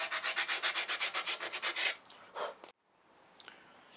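Abrasive scrubbing on the rusty metal surface of a classic Mini ball joint, a steady run of about fifteen quick rhythmic strokes followed by a few slower rubs, close and fairly loud before trailing off into quiet.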